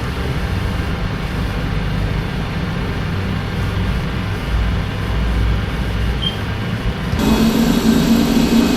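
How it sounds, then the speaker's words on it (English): Boeing 747 engines spool up in a flight simulator game, a steady loud roar and rumble that holds evenly, then steps up in intensity near the end, with no talking. "Start engines 2 and 1."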